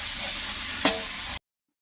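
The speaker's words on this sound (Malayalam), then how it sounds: "പിന്നെ അത് നല്ലപോലെ ഒന്ന് വഴറ്റി പച്ചമണം ഒന്ന് വഴറ്റി കൊടുക്കുക" Beef sautéed in a pan with ginger, garlic and shallots gives a steady close sizzle with a stirring scrape partway through, then the sound cuts off abruptly.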